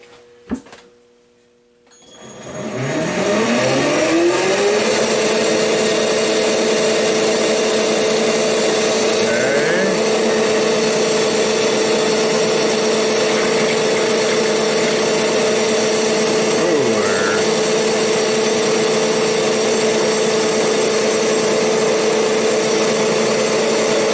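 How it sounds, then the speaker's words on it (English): Machine spindle spinning up from rest, a rising whine that settles into a loud constant high-pitched hum with a few faint clicks and shifts along the way, running on alone. "We're going to turn our spindle on."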